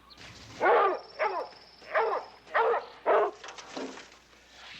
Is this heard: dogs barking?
yes